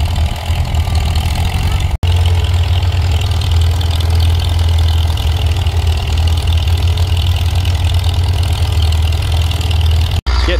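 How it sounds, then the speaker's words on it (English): Caterpillar D6 crawler tractor working hard in fourth gear pulling a plow through hard ground at a plow day, a loud, steady, deep diesel drone that fills the whole stretch. "It looks like John found fourth gear in the D6."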